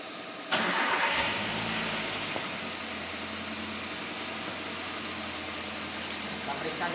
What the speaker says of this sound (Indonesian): Kita nyalakan mesin dan periksa mesin dari gangguan-gangguan serta getaran-getaran yang ada di dalam